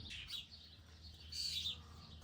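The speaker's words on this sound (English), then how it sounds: "Just the sound of the birds is so fantastic." Birds chirping in a neighbor's big cherry tree, two short bursts of high tweets, faint and somewhat distant over a low background hum.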